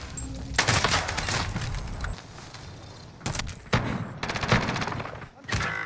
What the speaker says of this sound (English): He's shooting an SMG